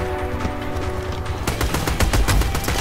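Rapid automatic gunfire from the shooter video game Army of Two, fast repeated shots in close succession that grow louder and denser halfway through, with no talking during the burst.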